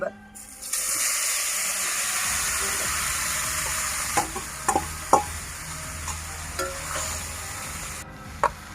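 Dried red chillies and panch phoron tempering in hot oil for a pickle, sizzling steadily close by, with occasional sharp pops and stirring clinks as a voice talks over it.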